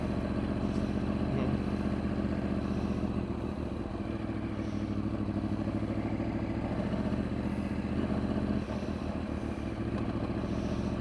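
A Yamaha R1 sport motorcycle on the road, its engine droning steadily and loudly throughout with wind rush and no pauses.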